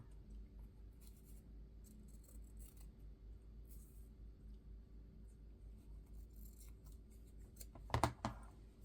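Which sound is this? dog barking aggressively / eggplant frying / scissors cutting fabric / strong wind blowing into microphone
scissors cutting fabric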